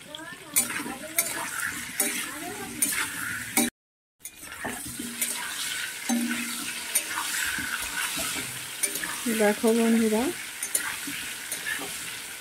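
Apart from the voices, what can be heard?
potatoes frying in a pan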